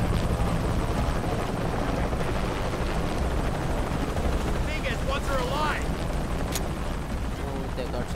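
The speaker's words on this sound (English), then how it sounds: "Always hated helicopters." Helicopter in the video game Shadow of the Tomb Raider, a loud steady rotor roar running throughout amid gunfire and combat noise, with voices speaking over it.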